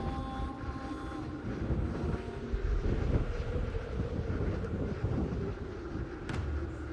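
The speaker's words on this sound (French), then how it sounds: "Le problème, c'est que la tempête n'a pas l'air de se calmer." A sandstorm at night in the open desert: a steady, roaring rush of wind buffets the microphone continuously, a dense low rumble with hiss above it and no pauses.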